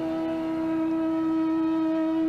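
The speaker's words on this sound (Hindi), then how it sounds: "तो फिर ये शंख कौन बजा रहा है?" A steady, sustained horn-like tone with strong harmonics drones evenly throughout, like a conch being blown, unbroken and fairly loud.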